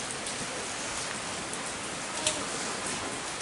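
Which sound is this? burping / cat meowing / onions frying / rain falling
rain falling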